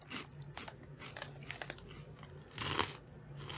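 Crispy parmesan pepper keto snack being chewed up close, with loud irregular crunches and bites in quick succession, a bigger crunch burst near the end.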